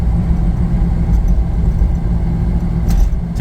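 A Toyota Land Cruiser 60-series truck engine with 425,000 kilometers rumbles steadily at close range as it drives off, a low continuous drone with no voices.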